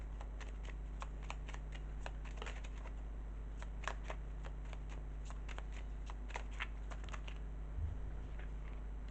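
Tarot cards being shuffled by hand in a quiet room, a steady run of crisp riffling flicks and soft slaps lasting several seconds over a low background hum.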